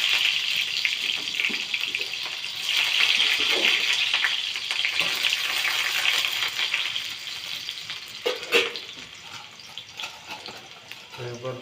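Onions sizzle and crackle steadily in hot oil while thankuni leaves and potatoes are fried, a broad hiss that continues throughout with a brief louder burst near the end.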